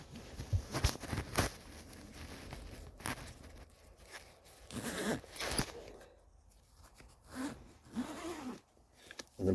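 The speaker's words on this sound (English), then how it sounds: "So you pull the zipper out, and you're going to undo the zipper." A zipper on the fabric cover of a Honda Odyssey third-row seat is unzipped in several quick, raspy pulls, close and fairly quiet, with scuffs and brief pauses between strokes.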